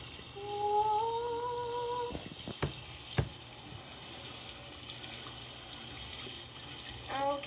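Water runs from a shower over a bath toy, a steady faint spray and hiss throughout, with a brief tonal squeak at the start and a few sharp clicks and knocks.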